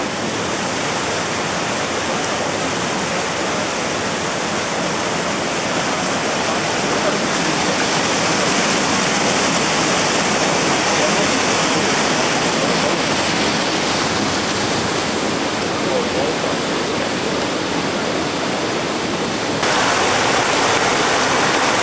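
A waterfall near Callander, Scotland, roars steadily and loudly as a broad, unbroken rush of falling water close by, with no voices over it.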